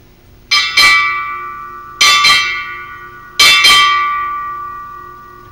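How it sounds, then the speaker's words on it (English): A ship's bell rings six strokes in three quick pairs at a Navy change of command ceremony, each pair ringing out and fading before the next, loud and close. "Sound 6 bells"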